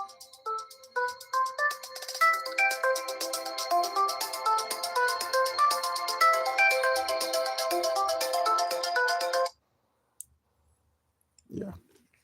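A phone ringtone plays as a steady, busy melodic pattern of tones for about nine seconds, then cuts off abruptly, followed by silence and a brief faint noise near the end.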